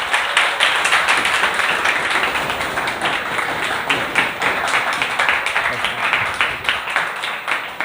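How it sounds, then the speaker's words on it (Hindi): A class clapping hands in a lecture room, many palms striking together in a steady, dense burst that holds for the whole stretch at fairly loud level, with faint voices mixed underneath. "तो अपन ताली मारेंगे,"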